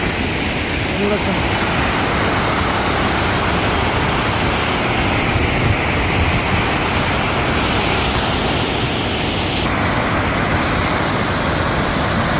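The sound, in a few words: Kadavinakatte reservoir overflowing like a waterfall in monsoon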